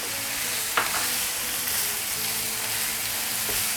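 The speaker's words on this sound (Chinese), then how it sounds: "这时候就开最大的火，一直去炒它，把这个洋葱炒香之后" Chopped onion stir-fried over the highest flame with ginger, garlic and Huadiao wine in the pan, a loud continuous sizzle with a sharp spatula clack near the start and another near the end.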